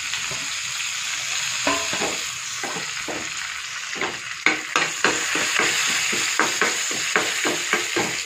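Mustard seeds, dried red chillies, cumin and curry leaves fry in hot ghee with a steady crackling sizzle, sharp pops and spatters dotted irregularly through it, close and moderately loud, with no voices.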